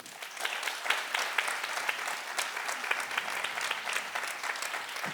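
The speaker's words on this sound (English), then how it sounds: "I think that deserves a big round of applause" Sustained applause from an audience at a Girl Rising press conference, dense steady clapping filling the room for several seconds at moderate distance with no speech over it.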